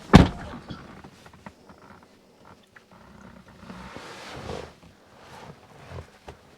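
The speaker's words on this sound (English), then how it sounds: "We'll close the door." A Tesla car door swings shut with a single solid thunk right at the start, followed by faint rustling and quiet handling sounds inside the car.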